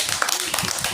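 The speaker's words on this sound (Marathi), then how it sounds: "जोरात टाळ्या वाजवा" Children in an anganwadi classroom clap their hands together, a brief burst of close, dense applause lasting about a second.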